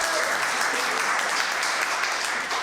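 An audience at a comedy panel gives a panelist sustained applause, dense even clapping filling the room without pause for the whole stretch.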